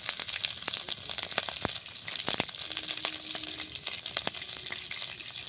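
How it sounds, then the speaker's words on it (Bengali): Cumin seeds and chopped green chillies frying in hot oil for cumin potatoes, a quiet crackling sizzle with sharp pops and spoon clicks against the pan, no talking. "জিরেটা দেখুন লঙ্কাটা লাল লাল হয়ে ভাজা হয়ে গেছে"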